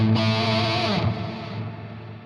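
Shimmer reverb on a guitar multi-effects pedal: a loud sustained guitar chord swells with a bright, octave-up shimmering wash that hangs and slowly decays, alone with no talk.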